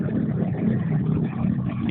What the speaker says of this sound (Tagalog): May mga sasakyan dumadaan.